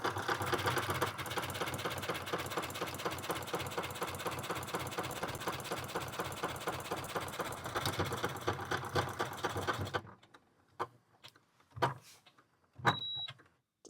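A computerized sewing machine stitches a buttonhole automatically for about ten seconds with a fast, steady, close mechanical whir, then stops. A few clicks and brief handling noises follow, along with a short beep.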